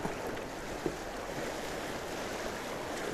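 Steady wash of water and wind noise, Deschutes River waves lapping and rushing against a boat with a faint thump, continuous and fairly loud with no voices.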